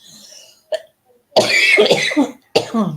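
A short cough, then a longer fit of harsh, rough coughs and a final burst, loud and close.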